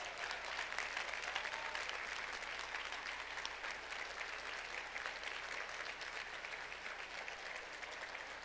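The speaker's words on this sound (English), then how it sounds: "let's give them a round of applause" A luncheon audience applauds warmly and continuously, a dense, even wash of clapping heard at a distance and quite faint, with no talk over it.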